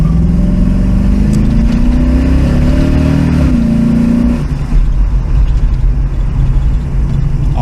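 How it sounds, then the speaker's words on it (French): A powerful Ford 351 Cleveland V8 engine revs loudly up close, pitch climbing steadily for several seconds before dropping into a rough, rumbling idle. "moteur-là, il prend des tours."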